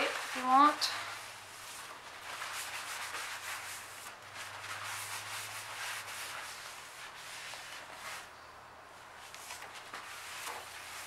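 Scraping a poured vinyl record surface to remove paint and start over, a soft continuous rubbing and sanding scrape close up, steady for the whole stretch with a brief louder scrape near the start.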